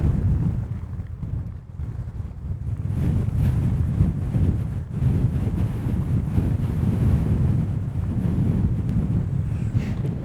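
Strong, steady wind roars and buffets the microphone beside open water where the freighters John G Munson and Ojibway lie near each other, a continuous low rumble with gusts and no speech.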